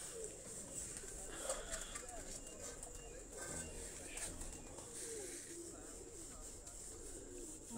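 Pigeons coo softly at a distance in an outdoor village setting of pigeon racing, their murmuring calls repeating through steady background noise with voices talking nearby.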